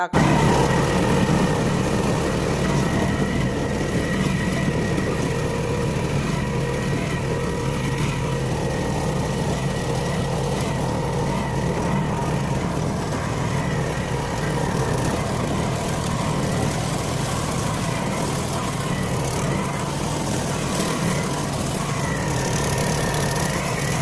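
A motorboat's engine runs steadily during a ride out on the water, a loud, even drone with constant rumble and a light hiss, unbroken for the whole stretch with no talking.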